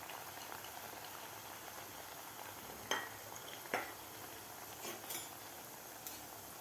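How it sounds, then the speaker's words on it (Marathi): Bread chocolate donuts go into oil heated over medium flame and fry: a faint, steady bubbling hiss with a few light clinks and splashes, quiet and close, with no voices. "आता आपण हे बनवून घेतलेले डोनट या तेलामध्ये सोडायचे आहेत"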